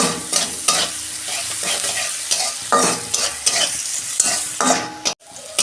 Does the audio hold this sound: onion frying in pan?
yes